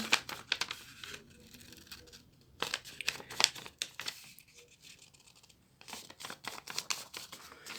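Paper being folded for an origami toy gun, with repeated crisp crinkles and creases in short bursts separated by quiet pauses, close and fairly loud, no talking.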